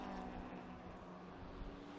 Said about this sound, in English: So here's the leader coming up through the chicane.